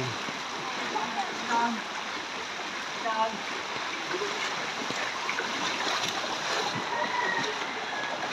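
Floodwater fills a street in Navotas City beside San Roque church during Typhoon Carina, a steady broad wash of moving water close by with faint background sounds and no clear talk.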